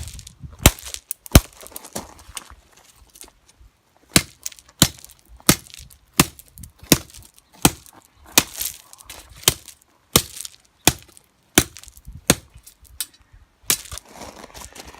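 A sledgehammer strikes rebar laid on gravel to bend it, a dozen or more sharp metallic blows at an uneven pace, close and loud, with crunching gravel between hits.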